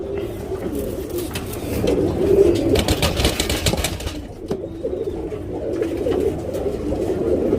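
Pigeons coo in repeated low, throaty, rolling calls close by, with some rustling and someone talking intermittently underneath.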